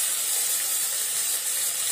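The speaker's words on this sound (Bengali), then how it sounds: "এই তেলের মধ্যেই আমি প্রথমে দিয়ে নিলাম আদা বাটাটা আর সাথে সিদ্ধ করা আলুগুলো" Ginger paste and boiled potatoes fry in hot oil for a Bengali dhokar dalna, giving a steady, close, even hiss and sizzle that stays loud and unbroken throughout, with no voices.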